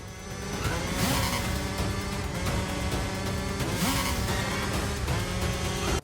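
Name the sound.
driving section in video game Terminator 2D: No Fate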